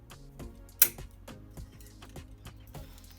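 Root of an Acacia longifolia pre-bonsai cut back, giving a run of small, sharp clicks at a steady pace with one louder snap near the start, close and with no talking.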